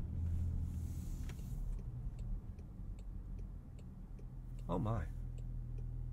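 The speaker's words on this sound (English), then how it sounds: "And for the turn signal sound." Turn signal on a 2024 Range Rover Velar ticking in a steady, soft rhythm inside the cabin over low road and engine rumble, with a brief voice partway through.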